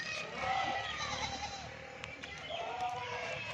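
Rajanpuri goats at a goat farm bleat in two drawn-out, wavering calls, one early and one near the end, fairly close and loud over a busy farmyard background.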